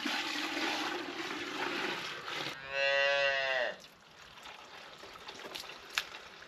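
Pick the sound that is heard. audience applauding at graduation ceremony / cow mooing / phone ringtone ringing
cow mooing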